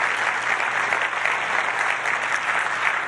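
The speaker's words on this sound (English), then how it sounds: "A big round of applause," Steady, dense audience applause for conference panelists at a climate-smart land use event, sustained evenly throughout with no gaps and no talk over it.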